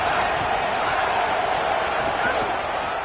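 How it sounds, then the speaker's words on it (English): A football stadium crowd roars as a steady, dense wall of noise, loud and unbroken throughout, with a commentator's voice faintly under it. "This crowd ready to make its presence known."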